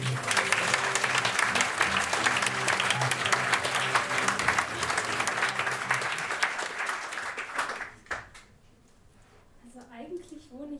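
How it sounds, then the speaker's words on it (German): Dense, loud audience applause welcoming a performer onto a poetry slam stage, sustained for about eight seconds with some cheering, then cutting off abruptly into near quiet with a few stray claps. "Bitte begrüßt mit einem riesigen Applaus."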